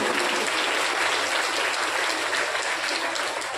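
A crowd at a Shiv Mahapuran religious discourse claps steadily throughout, a sustained, even wall of many hands applauding with no speech on top.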